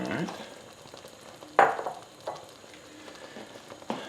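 A spoon scrapes through a spicy peanut stew with ginger and tomato in a hot pan, making a few distinct clattering strokes over a low background simmer, nearby and moderately loud.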